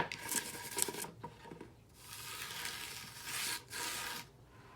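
A fingertip traces letters through a thin layer of sand in a tray, producing soft, close, scratchy rubbing strokes that come in short bursts with brief pauses between them.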